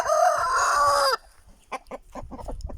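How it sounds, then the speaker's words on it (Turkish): An Aseel rooster crows loudly and close, one long drawn-out call, followed by a series of short, softer clucks. "Barut öt bakalım oğlum. Öt oğlum. Öt."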